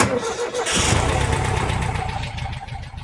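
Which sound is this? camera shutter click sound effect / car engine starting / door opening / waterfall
car engine starting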